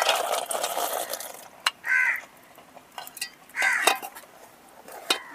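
Cashews being stirred into thick, sticky jaggery syrup in a pot for a tribal cashew chikki sweet, with a few scattered scraping clinks of the spoon against the pot. A crow caws twice nearby, heard over faint background noise.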